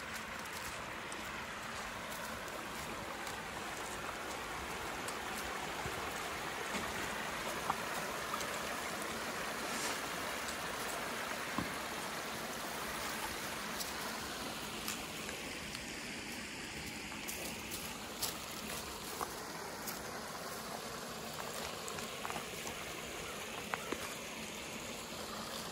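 Meltwater flows through a woodland stream in early spring after the ice has gone. It makes a soft, continuous rushing and trickling wash, heard from a short distance, quiet and unbroken throughout.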